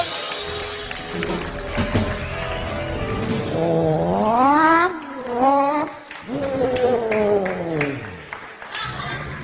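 A man imitates a revving motor engine with his mouth on stage, rising and falling whining vocal tones that climb and dip in pitch, loud and close, with crowd noise around.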